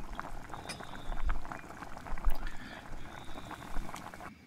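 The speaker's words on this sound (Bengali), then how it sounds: "স্টকটা ফুটে গেলে তার মধ্যে আমি ভেজে রাখা চিকেনগুলো দিয়ে দিলাম" Fried chicken pieces simmering in boiling stock in a pot, a soft steady bubbling with small liquid pops and occasional gentle low thumps, fairly faint and without talk.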